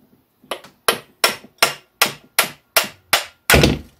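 A small hammer taps out a bearing during a Magna Fuel Pro Star 500 rebuild, nine sharp metallic strikes in a steady rhythm, close and loud with no talk.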